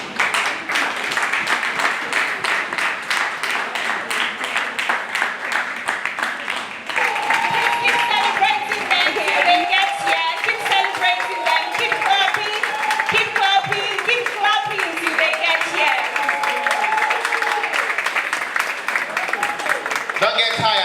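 A university audience at the MindThePlastic Naija Challenge finale in Lagos claps for a team, sharp overlapping handclaps running continuously, loud and close, while voices and music-like tones rise over the clapping midway.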